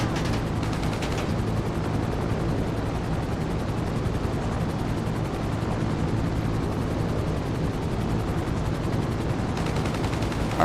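A continuous heavy roar of rapid gunfire and engine drone from a Titan aircraft in GTA 5 Online runs steady and loud throughout, with no pauses.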